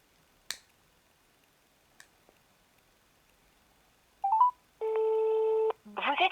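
Phone call with touch-tone dialing: a few faint taps, then quick keypad beeps and a long steady tone, followed by a burst of electronic ringing or a recorded voice.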